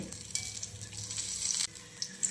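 Mustard seeds and curry leaves crackle and sizzle in hot oil for a tempering over chutney, a close, bright hiss with small pops and a brief stir.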